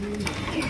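A Bombay pigeon gives a very brief, low, close coo against faint background noise.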